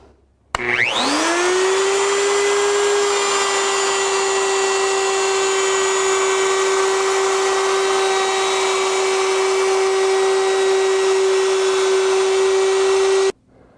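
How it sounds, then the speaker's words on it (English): A handheld router spins up sharply and runs at a steady high whine while jointing a board edge against an MDF guide, holding loud and constant for about thirteen seconds before cutting off. "we're going to start the router and just engage the MDF, keep it flat on the board to be jointed"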